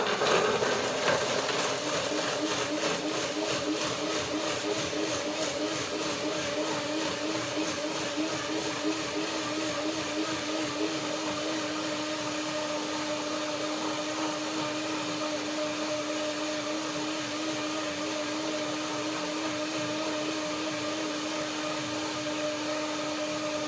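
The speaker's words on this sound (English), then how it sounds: "Blender dance." A blender whirring through a macadamia cream dressing for a kiwi mango salad, a loud continuous motor drone with a steady pitch, running alone for the full length after starting up.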